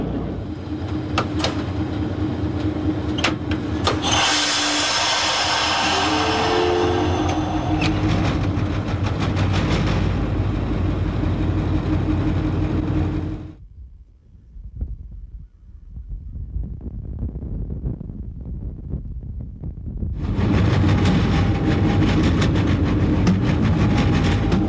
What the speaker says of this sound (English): the plow extra reverses for a half mile or so, then hits it again, this time with the wings extended.